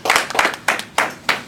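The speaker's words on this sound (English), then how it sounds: "Everybody give him a round of applause." Short round of clapping after a military enlistment oath, five distinct sharp claps in an uneven rhythm from a small group, close and fairly loud.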